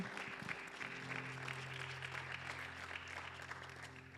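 A church congregation applauds the Lord in steady, dense clapping that fills the whole stretch, with sustained musical tones humming underneath.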